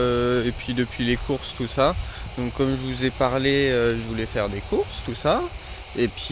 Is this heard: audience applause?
no